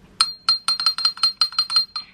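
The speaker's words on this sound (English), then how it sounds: "you can ring the little bubbly bell" A small bubbly bell, a party accessory for calling for prosecco, rings close and bright in about a dozen quick, uneven clinking strikes.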